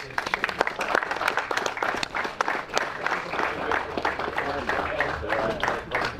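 A crowd at a race event claps and applauds continuously, dense scattered hand claps filling the space with voices mixed in.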